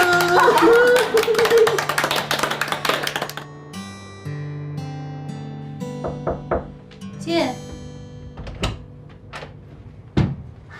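Several people clap together in a home drama scene, a dense burst of applause in the first few seconds that gives way to voices and quieter sounds.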